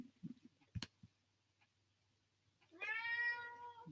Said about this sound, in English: so that's my cat